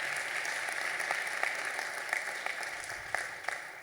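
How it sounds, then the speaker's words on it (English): An award-show audience gives a round of applause, dense steady clapping from a sizeable crowd that holds at an even level throughout. "Let's give her a round of applause."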